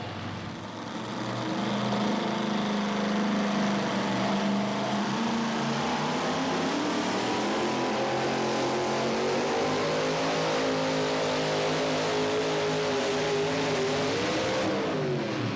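Chuck Chitwood's tractor pull run fills the air with a loud sustained engine roar that climbs in pitch as it strains, then wavers and settles, heard alone without commentary.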